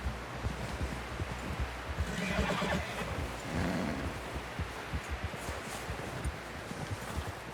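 Horse neighing and whinnying in Red Dead Redemption 2, with clip-clopping hooves and rustling underneath, a steady mid-distance game soundscape with no speech.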